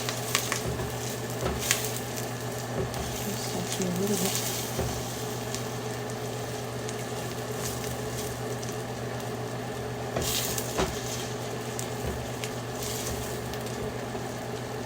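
Steady sizzling and crackling of food frying in a pan as the base for a Nigerian-style egg sauce, a constant close hiss with occasional pops, and a voice speaking briefly.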